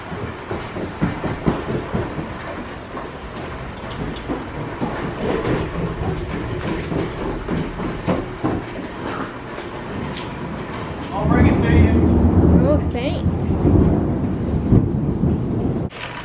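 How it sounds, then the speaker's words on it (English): A sudden rainstorm rolls in with a steady roar of heavy rain and low thunder rumbling. The downpour swells louder partway through, and voices are heard over it indoors. "This rainstorm came out of nowhere."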